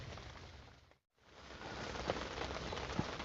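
Light rain falls steadily at a carp fishing lake, a soft continuous patter with a few sharper drops, briefly cutting out once before resuming at an even, moderate level.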